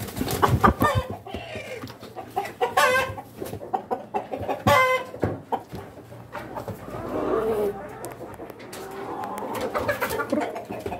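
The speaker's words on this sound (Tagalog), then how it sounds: "So ito yung rooster natin." A rooster and laying hens in a breeder cage on a farm cluck and call close by, with repeated short clucks and louder crowing-like calls coming and going over a low steady hum.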